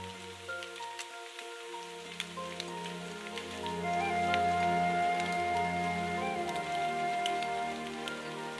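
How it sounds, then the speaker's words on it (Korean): Autumn rain falls steadily on Geumseongsan mountain in Uiseong, a dense patter of drops on surfaces with scattered sharper drips, continuous and fairly close, growing slightly louder midway, with no voices. "금성산에 가을을 재촉하는 비가 내립니다"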